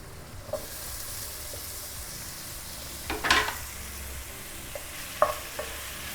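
Sautéed onions with tomatoes frying in a pan for fish biryani, a soft low sizzle broken by a few sharp scrapes and clinks of a spoon, fairly quiet with no talking.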